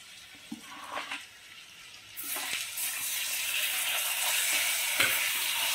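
Nuts and ground dates frying lightly in a pan over a low flame, a soft steady sizzle that swells louder partway through, with faint stirring scrapes.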